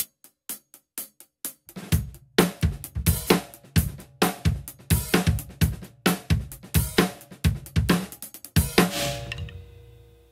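Drummer plays an accented groove on the hi-hat with a stick, a fast steady stream of crisp ticks with louder accented hits and low drum thumps underneath, ending in a ringing decay, close and alone.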